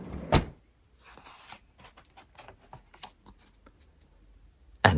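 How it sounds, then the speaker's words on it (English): Sound effect of a kitchen drawer shutting after a knife is put away: a sharp slide-and-bump up front, then soft scattered clatters and rustles, ending in another sudden knock. "And don't forget to put them away. Plate in the cupboard. And the knife in the drawer."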